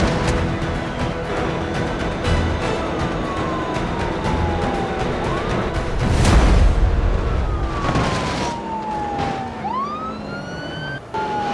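A roadblock bomb detonates in the BeamNG driving game, a single heavy blast bursting out midway while police sirens wail continuously before and after it.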